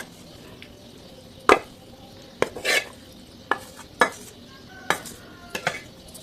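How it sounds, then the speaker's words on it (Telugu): Cooked rice being stirred together with a fried tempering for South Indian lemon rice, giving several separate scraping and clinking strokes of a spoon against the pan at an uneven pace, close and moderately loud with no voice. "ఇలా రైస్ అంతా కూడా పట్టించేసుకుందాం."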